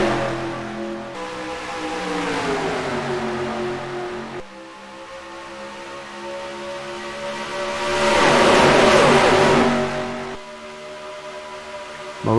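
Race cars in NASCAR Racing 2003 roar away on the first lap at Las Vegas Speedway, engines droning and shifting pitch as the pack accelerates, swelling loudest midway as cars sweep close past, with no talk over the engines.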